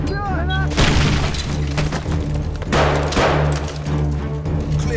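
A grenade blast in a tactical shooter video game: a heavy boom with a crashing, shattering tail lands near the start and another burst follows, over steady background rumble with voices talking.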